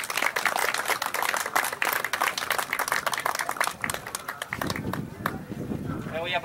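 A gathered crowd claps for the women who run community soup kitchens, dense, fast applause that holds strong for several seconds, then thins into scattered claps with voices rising underneath.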